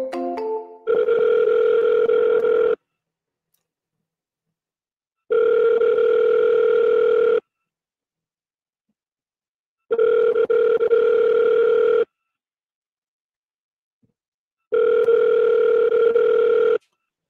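Outgoing phone call ringback tone, four steady ring bursts of about two seconds each separated by silent gaps, clear and alone with no talk.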